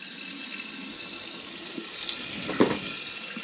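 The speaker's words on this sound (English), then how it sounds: "Gonna fill this up with water." Water runs from a hose or tap as work equipment is being filled up, a steady close rushing hiss with a brief louder splash near the end.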